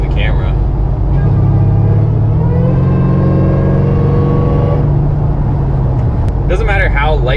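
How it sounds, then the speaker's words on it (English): Hellcat-swapped Dodge Dakota pickup accelerating, its supercharger whine rising in pitch over a loud exhaust drone, then fading as revs drop; a person talks toward the end. "you can hear that blower whining so loud"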